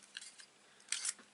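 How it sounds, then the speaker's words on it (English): A hand-held label punch cuts a paper label: a few small ticks, then one brief, crisp crunch at close range. "now I'm going to grab the classic label punch and cut that out"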